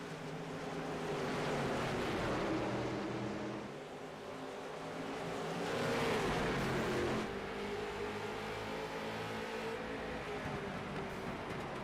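Pack of late model race cars roaring into the start of a heat at Nashville Fairgrounds, a steady loud engine drone swelling and fading twice as cars pass, no voices.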